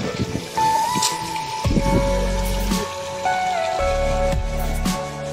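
Heavy rain pours down on a village in Odisha, a loud, steady downpour with tonal ringing and drumming running continuously throughout.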